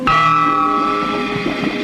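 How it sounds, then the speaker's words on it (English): A house doorbell rings once with a bright, sustained metallic tone that lingers and slowly decays, heard loud and alone indoors. "I'll try the bell."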